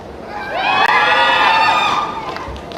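Audience at an annual day celebration cheering and shouting loudly together, a sustained burst of high voices, likely many children, swelling for about a second and a half before tapering off.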